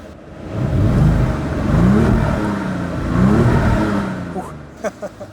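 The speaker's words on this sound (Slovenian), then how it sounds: "Zdaj pa naredimo na hitro še eno kontrolo, kako se sliši njegov zvok, pa da vidimo v nevtralni prestavi." Volkswagen Golf GTI engine revved in neutral, three rising and falling throttle blips that swell and fade close by, followed by a few sharp clicks and knocks.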